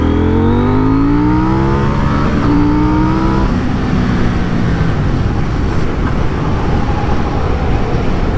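A motorcycle engine revs hard on a test drive, on a bike that later blew up. A loud engine note climbs in pitch over the first few seconds, then breaks into a rough, steady roar with no talking.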